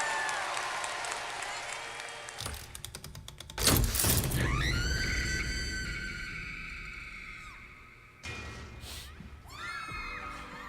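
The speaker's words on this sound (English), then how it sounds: "Everyone in your row, give her a round of applause for sacrificing herself." A game-show audience at a Beast Games competition applauds a contestant. The clapping and crowd noise swell suddenly, fade gradually, then return in a second burst, with scattered shouts mixed in.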